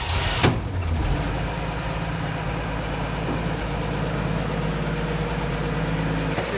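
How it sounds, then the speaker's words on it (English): An old Chevy truck engine fires up after a sharp starting transient, then settles into a loud, steady high idle with a constant low rumble and no voices. "let's fire it back up, see if it charges"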